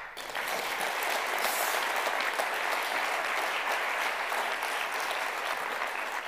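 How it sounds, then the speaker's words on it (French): An audience at the final of a Swiss French-language eloquence contest applauds a speaker. The clapping is dense and steady and holds at an even level for about six seconds, with no voices over it. "Applaudissez-le."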